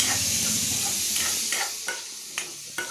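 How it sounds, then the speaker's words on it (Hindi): Onions and spinach stirred and fried in a pan for a desi chicken dish, a steady close sizzle with a few sharp scraping strokes of the spoon toward the end. "फिलहाल प्याज हल्का हल्का मिक्स कर लो अच्छे से"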